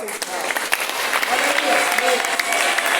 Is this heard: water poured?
no